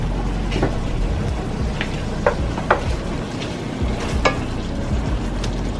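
Bratwurst sizzle steadily in a hot frying pan, a dense crackling hiss with occasional louder pops and spits, close and without voices.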